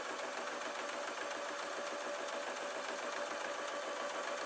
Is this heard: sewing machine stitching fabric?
yes